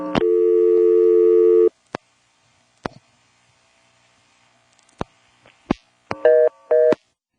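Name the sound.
telephone busy/reorder tone after flashing, NX1-E exchange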